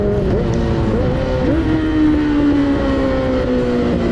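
A motorcycle engine running steadily as the rider downshifts from fourth gear to first, with drifting engine tones and several small pitch shifts under a constant loud drone.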